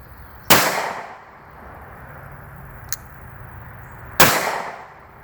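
A Cobra .22 magnum derringer fires twice outdoors, each shot a sharp, loud crack with a brief echoing tail, spaced several seconds apart, with a small metallic click between them.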